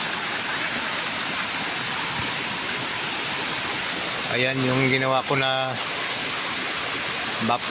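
Muddy water rushes steadily along a stream, a loud continuous broadband wash close by, with someone speaking briefly over it near the end.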